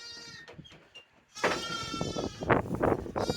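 Sheep bleating close by in a farm pen, a few short cries followed by louder overlapping bleats with rustling and movement around them.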